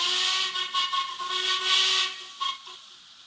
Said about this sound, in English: Soon, the guard blew his whistle, and it was time for Murdoch to leave.